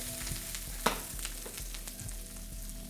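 Onion fries in a pan for an American breakfast casserole with a soft, continuous sizzle, broken by one sharp clack and a few light scraping stirs.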